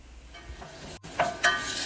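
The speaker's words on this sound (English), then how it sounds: "heat the pot over medium heat and add Perilla oil. Then add chopped kimchi and Gochugaru." Chopped kimchi and gochugaru hitting hot perilla oil in a pot over medium heat, a soft hiss that jumps into louder sizzling bursts near the end, with faint scraping as the ingredients are stirred.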